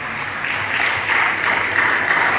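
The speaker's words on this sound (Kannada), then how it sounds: "ಎಲ್ಲರಿಗೂ ಒಂದು ಜೋರಾದ ಕೈ ಚಪ್ಪಾಳೆ" A crowd at a youth retreat centre applauding children's performance, a dense, continuous wash of clapping that holds steady and grows slightly louder throughout.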